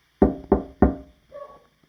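Three sharp knocks on a house window in quick, even succession, close and loud, followed by a soft brief rattle and then quiet.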